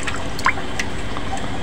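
Coconut milk pours into a cooking pot in a home kitchen, a soft liquid trickle with a couple of distinct drips and plops, heard up close for a brief moment.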